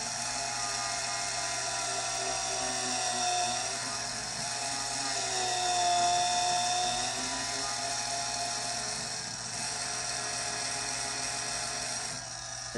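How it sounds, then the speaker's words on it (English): A mini pottery wheel motor whines steadily as a continuous mechanical tone, its pitch sagging and straining under pressure from hands on the clay before recovering. "you can hear the motor struggling"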